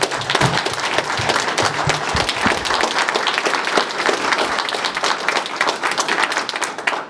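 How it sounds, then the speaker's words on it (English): Audience applause at a select board candidates forum, a steady wash of many hands clapping throughout, moderately loud and sustained without talk. "Big round of applause for our candidates."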